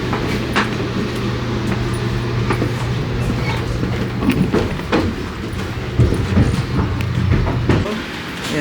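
Train rumbling along, a steady low drone with rattling and clacking from the carriage, heard from inside with faint background voices.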